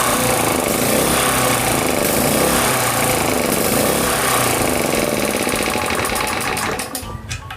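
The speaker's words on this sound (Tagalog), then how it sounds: "So paubos na yung gasolina doon malamang kasi ganun na yung andar." A petrol generator engine runs loud and steady at close range, sputtering and dropping off unevenly in the last second as it runs low on gasoline.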